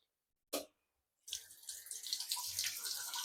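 A brief splash sounds, then after a pause water runs steadily from a tap into a very large metal cooking pot, a close, rushing stream with gurgling that builds as the vessel fills, no voices.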